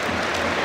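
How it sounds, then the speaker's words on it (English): Football crowd of Coventry City fans applauding during an FA Cup tie against Maidstone United at a substitution, a steady dense wash of clapping that fills the short moment. "Coventry fans clapping as well"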